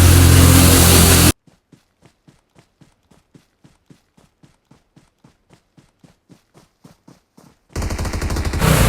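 Gunfire in the video game PUBG, a long run of evenly spaced single shots, roughly three per second, crisp and isolated against silence, framed by loud dense noise at the start and end.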